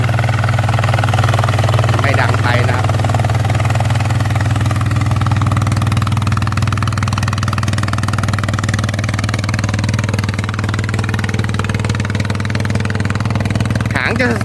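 A walking tractor engine with a built-in muffler runs at a steady, close, droning hum for the whole stretch, with a voice talking over it.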